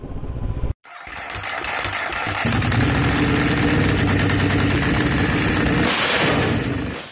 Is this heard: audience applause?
no